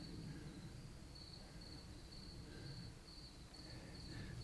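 Crickets chirp in faint, steady trills at a distance on a night by a fire, a thin high-pitched pulsing over a quiet low background rumble.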